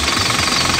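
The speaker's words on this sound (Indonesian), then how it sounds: "Pada saat mesin bunyi, nah bunyi seperti ini. Ini bunyi, ini berputar." A running car engine with its alternator spinning, in a check for a faulty alternator, gives a loud, close, steady mechanical clatter and hum with a rapid knocking texture throughout.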